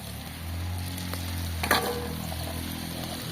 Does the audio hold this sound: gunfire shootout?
no